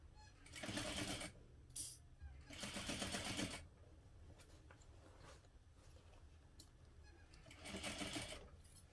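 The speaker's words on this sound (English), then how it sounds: "I rotate the whole entire bag as I sew around the side." A sewing machine stitches around the side of a backpack in fast, even bursts of mechanical whirring separated by pauses while the bag is turned. A faint voice talks quietly between the runs.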